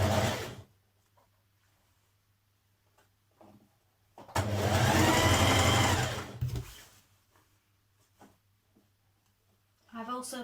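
A sewing machine stitches a waistband onto a gathered skirt in one fast, steady burst of about two seconds, with a low electric hum and rapid needle chatter; brief talk comes at the start and the end.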